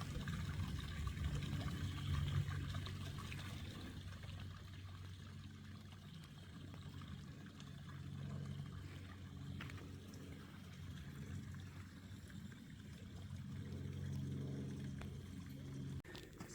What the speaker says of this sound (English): I even see a little waterfall over there. It's a Pine Barrens waterfall.